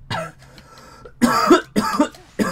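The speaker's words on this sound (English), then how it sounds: "I would like to stop coughing." A man coughs several times in quick harsh bursts, close to the microphone, with short pauses between fits while gaming.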